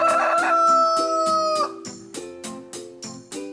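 A rooster crows loudly in a long drawn-out call, then a rhythmic series of short regular clucks and beats follows, likely set against a steady musical pulse.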